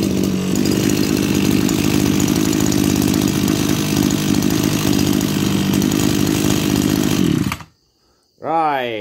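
A Maruyama BIG M JC26 26cc brush cutter engine runs loud and steady for about seven seconds, then cuts off abruptly into silence before a voice begins speaking.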